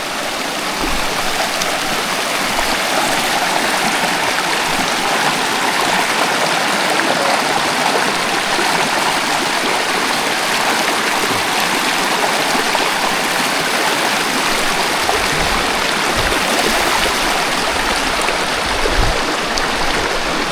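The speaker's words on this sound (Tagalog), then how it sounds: "Tatawid tayo sa ilog." A river rushes steadily during a horse crossing, a broad, continuous roar of flowing water heard close and loud for the whole stretch, with no talk over it.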